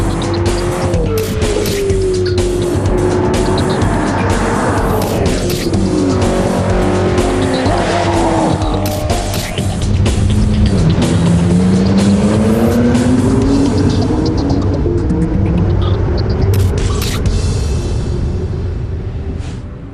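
The McLaren XP prototype supercar is driven hard, with a loud engine rising and falling through revs, repeated tire squeal on hard cornering and close passes, and no talking.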